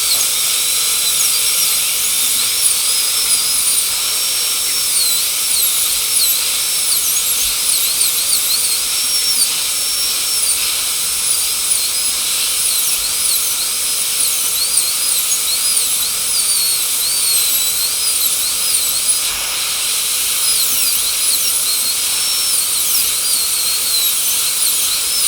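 High-pitched whine of a dental drill burr cutting tooth #30 for a full zirconia crown with a rounded shoulder, running steadily and close for the whole stretch with slight pitch wavering as the handpiece works.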